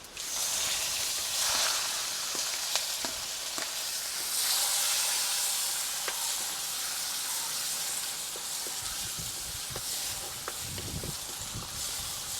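Curry leaves sizzle and hiss steadily in hot oil on a lowered flame, with occasional scraping stirs and spoon taps throughout.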